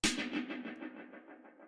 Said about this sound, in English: It's like an 808 type sounding snare.